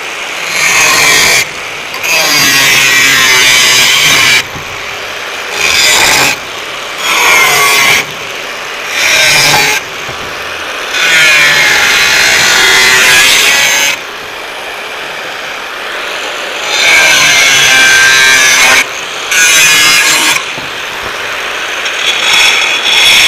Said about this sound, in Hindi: अभी मैं इस बैंड की इस सिंगल बैंड की कटाई डाल के इसको स्क्रू लगाऊंगा